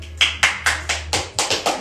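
Several hands clap in a slow, evenly spaced rhythm for about eight distinct claps at a talk show welcoming guests, close and fairly loud over a low steady hum.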